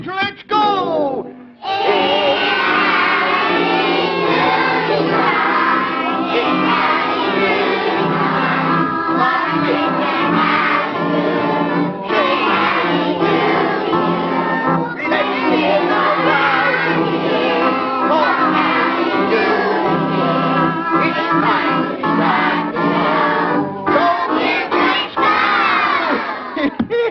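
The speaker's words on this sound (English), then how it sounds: "please sing good and loud for good old Howdy Doody and Buffalo Bob" A 1952 children's studio audience singing loudly together for a live television show, a sustained, shouting chorus of young voices filling the room and continuing almost without a break after a brief pause near the start.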